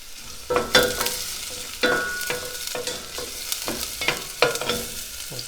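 Chopped onion sizzling in a hot pan for a mussel dish, a steady close frying crackle punctuated by repeated spoon stirs and scrapes at irregular intervals, with no voices.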